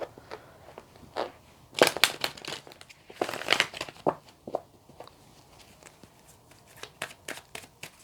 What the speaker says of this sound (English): let me just shuffle the deck once more